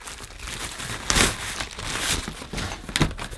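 A basic single-layer paper vacuum cleaner bag for a vintage Hoover Junior 1334A being handled, giving close, dry crinkling and crackling in irregular bursts, with sharper rustles near the middle and end.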